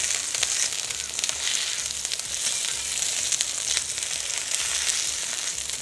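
Antipasti searing in a hot pan, a steady close sizzle and crackle of frying that runs without pause, with occasional scrapes as the food is pushed around.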